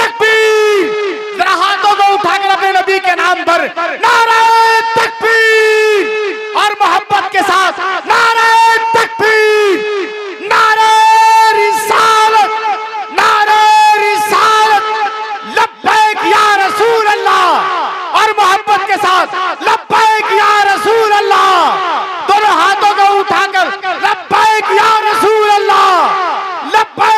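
A large crowd at a religious gathering chants the takbir slogan in unison with raised voices, loud, sustained and rhythmic in repeated bursts, filling the space for nearly half a minute.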